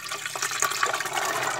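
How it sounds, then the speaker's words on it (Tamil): Chickpea soaking water from eight hours of soaking pours steadily into a pressure cooker for chana masala, a close, continuous splashing, gurgling stream with no talk. "இந்த ஊற வச்ச தண்ணியிலே நம்ம இதை குக்கரில் ஆட் பண்ணிக்கலாம்"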